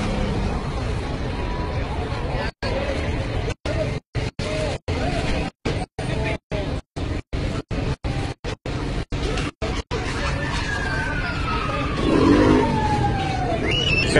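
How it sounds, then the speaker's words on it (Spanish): A police siren wails in the distance amid crowd babble and street noise during looting at a Chedraui supermarket in Villa Nicolás Romero, its rising tone audible faintly in the background toward the end. "Sonó una sirena de una unidad de policía."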